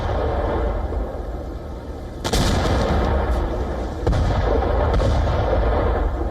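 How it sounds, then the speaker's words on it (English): Deep booms and sharp blasts of explosions in Kyiv before dawn crack out over a constant low rumble, a few separated hits a second or two apart. "The first explosions shattered the silence before dawn."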